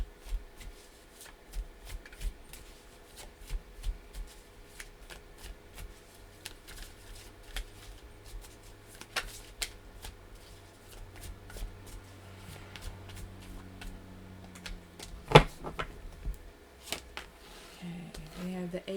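Tarot cards are shuffled by hand in a steady, soft riffling and sliding that carries on throughout, close and quiet, with a sharper snap near the end.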